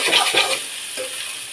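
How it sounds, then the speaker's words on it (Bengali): Red amaranth greens frying with garlic hiss close by as a utensil stirs them in a few quick scraping strokes, the sizzle continuing softly afterward. "তো আমি যে শাকগুলা দিয়ে দিলাম, দিয়ে একটু ভালো মতো নেড়ে চেড়ে নিতে হবে।"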